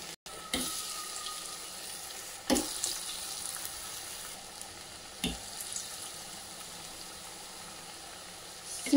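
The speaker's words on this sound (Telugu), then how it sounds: "సిమ్లోనే పెట్టుకొని గారెలు అన్నీ ఫ్రై చేసుకోండి" Bobbarlu garelu fritters deep fry in hot oil over low heat, giving a steady close sizzle broken by a few sharp clatters as a utensil knocks the pan.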